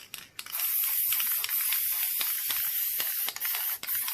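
Krylon metallic spray paint hisses steadily from a can in a continuous close burst lasting several seconds, with a few brief dips where the nozzle is released.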